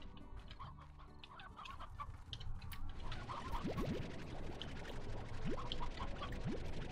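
Hens cluck in the farm-life video game Slime Rancher, several short calls rising over busy game sounds and music, moderately loud, with no talking over them.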